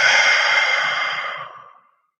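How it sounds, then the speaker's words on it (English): A single deep, audible exhale during a breathing exercise, a close breathy rush of air that fades smoothly to silence after about two seconds. "A deep, audible exhale."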